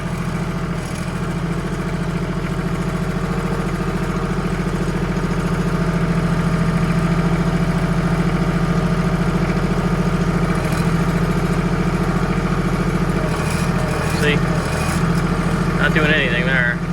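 An excavator's diesel engine idles steadily as its hydraulics are worked, giving a loud continuous low drone that runs without a break, with faint higher whines and creaks near the end.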